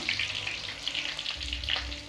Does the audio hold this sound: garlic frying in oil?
yes